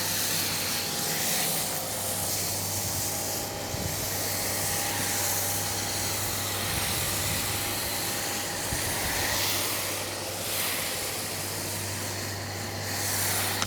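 Soap sprayed onto car wheels and tires during an exterior wash, repeated broad hissing sprays in separate pulses, close and steady over a low background hum, with no talking.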